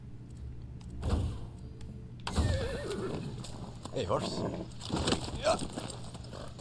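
A horse in Far Cry 6 whinnies loudly and its hooves clip-clop, with a couple of sharp neighs standing out. Someone talks over it.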